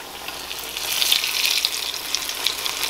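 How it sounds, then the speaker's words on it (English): Rabbit pieces fry in hot seasoned grease, a steady close sizzle with bright crackling pops scattered throughout and no voices. "I'm just gonna let it fry a little piece over here."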